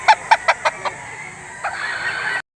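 A rooster at the Lipa poultry auction market clucks in a quick run of five sharp calls, then gives a longer drawn-out crow, close and loud.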